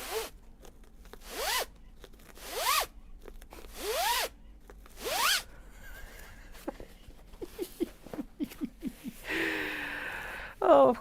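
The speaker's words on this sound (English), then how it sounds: "the awesome but somewhat annoying zipper sound" Repeated zipper pulls on a large fabric box bag made from Japanese fabric, several quick rising zips one after another, then a burst of short rapid tugs and a louder rushing pull near the end, close and clear with no talk.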